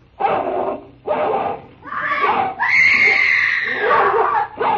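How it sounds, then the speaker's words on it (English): In a radio drama, a woman screams and struggles with a dog: short yelping and whimpering bursts build into a sustained, loud, shrill scream, up close. "A woman fighting with a dog."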